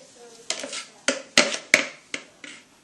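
Stirring in a pot, heard as about six sharp clinks and knocks of utensil against metal at an irregular rhythm, close and fairly loud, with soft household noise between strikes.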